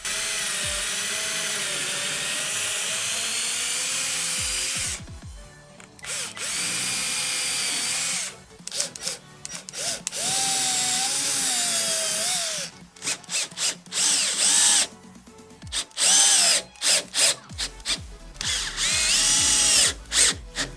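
A power drill drives screws into a large wooden batten while building a wooden fixed clamp, with loud sustained whirring bursts broken by short pauses and stuttering starts and stops.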